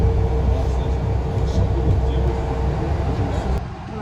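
A city bus rumbles along through Prague, heard from inside as a steady low engine and road drone that eases off near the end.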